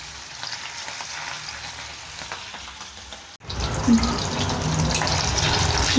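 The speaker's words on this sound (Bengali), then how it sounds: "তেল গরম হয়ে গেছে বন্ধুরা, দেখুন এবার আমি ইলিশ মাছ তেলে দিয়ে দেব।" Hilsa fish slid into hot oil, a quiet hiss first, then a short drop before a loud, steady, crackling sizzle of frying fills the rest, close by with no talking.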